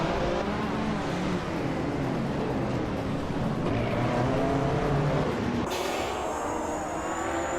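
Race cars roaring off the start at Virginia International Raceway Grand West in a racing video game, including a classic 1978 Ferrari 512 BB, with a dense, loud, continuous engine drone and a sharp shift near the end.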